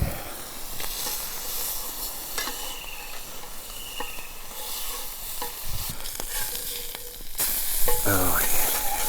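Bacon and eggs fry on a campfire in the bush with a steady close sizzle and hiss, and the crackle grows louder and brighter toward the end.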